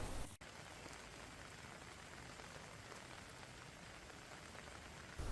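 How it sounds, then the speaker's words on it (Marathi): Dense, even hiss of heavy monsoon rain pouring down without pause in Raigad, Konkan, with a brief click near the start. "श्रीवर्धन मसळा मुरुड परिसरात देखील मुसळधार पाऊस कोसळतोय"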